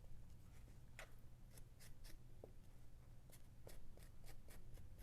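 Ginger root scraped with a spoon, a run of short, crisp scratching strokes, fairly quiet over a steady low room hum.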